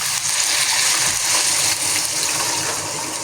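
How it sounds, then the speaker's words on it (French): Liquid pours steadily into bulgur in a pot, a continuous gushing wash lasting the whole few seconds with no pauses and no talk over it. "Ensuite, je vais venir verser tout mon liquide."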